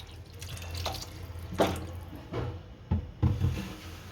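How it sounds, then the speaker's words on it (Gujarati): Water poured into a pot of cowpea (chora) curry, heard as a few short, close splashing bursts over a quiet background, with no talking. "હું થોડુંક પાણી નાખું છું"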